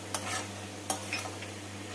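Spoon stirring soya chunks and cabbage curry in a pan, a few soft scraping strokes over a faint low sizzle and steady hum, close and quiet, no voices.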